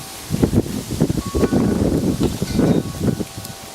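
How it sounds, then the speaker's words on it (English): Gusty wind rustles through Mohawk tobacco plant leaves close by, a continuous noisy swish that swells and fades in irregular bursts. "ooh, it's windy today"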